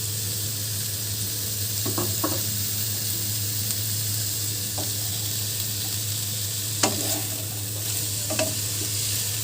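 Vegetables sizzle in a hot pan for chicken vegetable soup, with a steady hiss, broken by a few scraping clicks as they are stirred.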